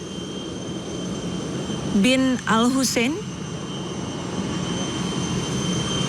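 Jet engines at Halim Perdana Kusuma airport in Jakarta, with fighter jets escorting an arriving plane. A steady, droning engine roar fills the background while a reporter speaks briefly over it.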